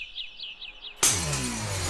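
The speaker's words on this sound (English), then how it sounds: "the contrast from the bird sound, which is a nice, calming, relaxing sound" High, looping bird chirp sound effects in a song repeat in a quick rhythm for a second, then a sudden loud crash of breaking glass cuts them off.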